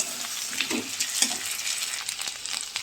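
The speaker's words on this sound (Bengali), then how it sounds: "এর মধ্যে আমি আদা আর রসুন বাটাটা আগে দেব এটা দিয়ে একটু ভাজা ভাজা করে নেব" Ginger garlic paste sizzling and frying in a pan, a steady crackle with occasional stirring scrapes, close and moderately loud, no voices.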